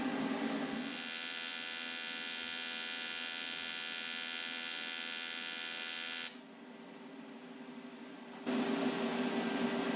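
A welder lays a test bead on a Kawasaki ZXi 1100 jet ski exhaust at 75 amps, giving a steady, bright electric buzz and crackle for several seconds, a short pause, then the buzzing starts again.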